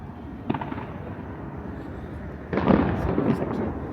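Fireworks bursting over the water on a nighttime boardwalk, one sharp distant pop early, then a louder rumbling cluster of booms and crackles heard from the shore amid crowd murmur.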